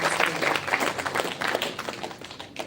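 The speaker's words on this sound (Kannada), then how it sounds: "ನಮ್ಮೆಲ್ಲ ಪ್ರತಿಭಾನ್ವಿತ ತಂತ್ರಜ್ಞರಿಗೊಮ್ಮೆ ದಯವಿಟ್ಟು ಚಪ್ಪಾಳೆ ಬರಬೇಕು" A live event audience claps for the technicians, a short burst of dense, moderately loud applause that slowly thins out over a few seconds.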